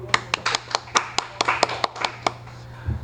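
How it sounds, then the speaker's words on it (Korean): A small classroom group claps for a student during a technical drawing lesson on a drill jig base part: about a dozen sharp, separate hand claps in a quick, slightly uneven rhythm, close and clear, ending abruptly. "박수."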